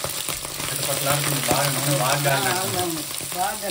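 Tender goat tripe (boti) sizzles and crackles in hot oil in a home kitchen, a steady close frying hiss with stirring scrapes, while a person talks briefly over it.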